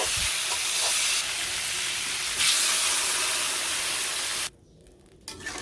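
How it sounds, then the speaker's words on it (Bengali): Water splashed onto mixed vegetables frying in a pan in a village kitchen sends up a loud, steady sizzle and steamy hiss that runs for several seconds, then drops sharply and returns faintly. "এই পাশে যে সবজি আমার মোটামুটি ভাজা হয়ে গেছে খুব একটা ভাজি করুন না এখন জল দিয়ে দিই"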